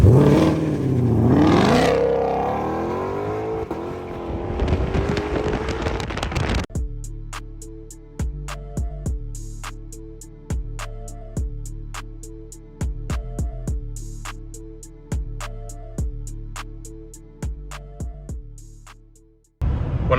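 A 2022 Shelby GT500 Mustang engine roars loudly as it revs under launch control, then gives way to a steady run of rhythmic, close-up mechanical pulses that fade out at the end.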